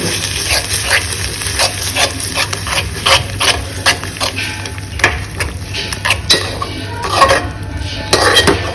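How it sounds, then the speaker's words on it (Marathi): Bottle gourd halwa with Amul fresh cream being stirred in a pan: a spoon clinks and scrapes against the metal in an uneven run of light taps, close up over a low steady hum, with no talking. "याला अगदी चांगल्या प्रकारे मिक्स करून घ्यायचं आहे"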